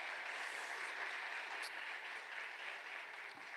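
A church congregation applauding, a fairly faint but steady patter of many hands clapping at once, continuing evenly throughout without talk.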